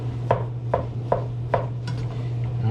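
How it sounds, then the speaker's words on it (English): Food being chopped for chili, five crisp, evenly spaced chops landing close up over a low, steady background hum, with no talking. "I'm kind of chopping this up"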